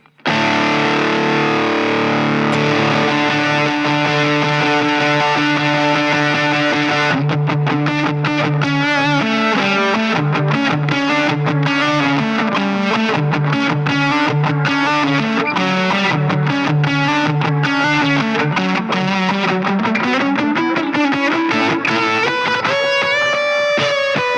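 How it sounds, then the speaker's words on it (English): Electric guitar runs through a very mild DS1 distortion model pushing an overdriven amp on a POD Express, playing a loud, bright lead line with sustained notes and quicker picked phrases. "I'm going to push the amp into overdrive by using a very mild distortion. The distortion model is a DS1"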